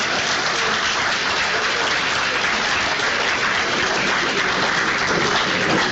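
Dense, steady crowd applause fills a played-back recording of a presidential speech, sustained and loud throughout with no voices breaking through.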